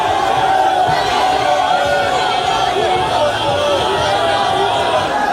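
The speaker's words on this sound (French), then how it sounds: "une foule en liesse toujours aussi nombreuse" A large, jubilant crowd at a Felix Tshisekedi presidential campaign rally roars steadily with dense cheering, shouting and babbling voices, loud and unbroken throughout.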